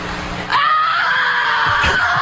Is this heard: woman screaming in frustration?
yes